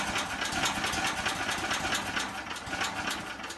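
A portable generator engine with an electric start button and the choke on, churning steadily close by with a rough, rapid pulsing rhythm throughout, no talking.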